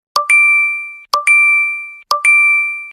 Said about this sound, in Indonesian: Kok ramai banget notifikasi?